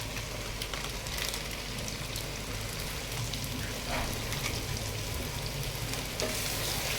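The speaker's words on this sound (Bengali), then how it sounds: "আমার ঘরে থাকা মশলার মধ্যে থেকে ভালো করে মাংসগুলো ভেজে নিলাম" Meat frying in oil with spices, a loud, dense and continuous sizzle with faint stirring scrapes now and then.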